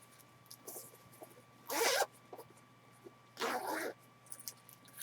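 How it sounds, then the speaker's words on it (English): Two quick zipper pulls on a cross stitch project bag, each a bright rasping zip lasting under a second, close by over a quiet room hum with a few soft handling clicks between them. "It has a zipper on both sides"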